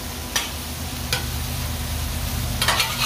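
Fries and hamburger meat sizzle steadily on a hot cooking surface, with a few sharp scraping strokes from a spatula.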